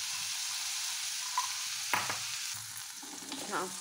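Chickpeas tossed into a hot pan, giving a close, quiet sizzle with a sharp burst as they land and stirring scrapes afterward.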